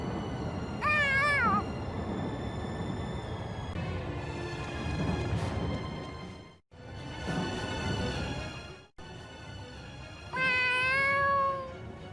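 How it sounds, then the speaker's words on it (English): A cat in the video game Tales of Xillia 2 gives a few short, clear meows at the start and the end, with a muffled soundtrack and shuffling noise in between and no talk. "Is that your cat?"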